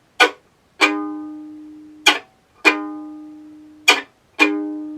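Violin chop bowing: six sharp percussive bow strokes, each a crisp scratchy attack with a short ringing pitched tail, spaced in an uneven rhythm, close and moderately loud with no talking.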